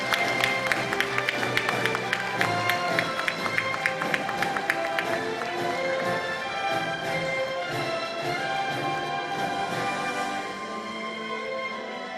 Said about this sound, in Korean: 자, 박수로 한번 맞아주실까요?